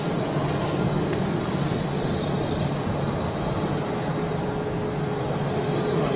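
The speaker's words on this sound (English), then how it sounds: "There's your 330 KLM on the move." A KLM Airbus A330 on the move at Schiphol airport gives off a steady, broad jet rumble and hiss that holds at an even level throughout, with no voices over it.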